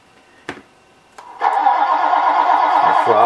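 An RC model engine driven by radio throttle: a couple of sharp clicks, then the engine catches and holds a loud, steady, buzzing run to the end.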